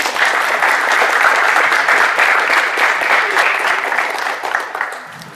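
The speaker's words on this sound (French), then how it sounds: "Je vous demande d'applaudir Masuma et Ayana, s'il vous plaît." Audience applause at a Paris tournament, loud, sustained clapping from a crowd that holds steady for several seconds before tapering off toward the end.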